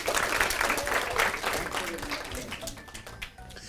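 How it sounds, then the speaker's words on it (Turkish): A crowd of schoolgirls at a school drama contest clapping steadily and enthusiastically, the applause dense and close, slowly thinning toward the end with some voices mixed in. "Tamam alkışlıyoruz bravo."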